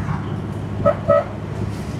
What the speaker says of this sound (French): On a un petit klaxon.